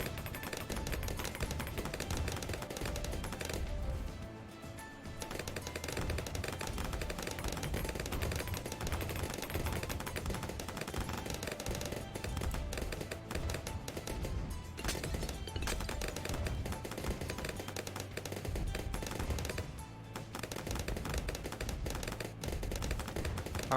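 Sniper monkeys firing full auto in Bloons TD 6, a rapid, continuous stream of gunfire pops that rattles on unbroken at a moderate level, with a few brief dips.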